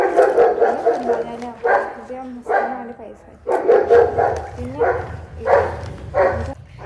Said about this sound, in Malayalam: അവിടുത്തെ പട്ടി നല്ല കുറേ കേൾക്കുന്നുണ്ട്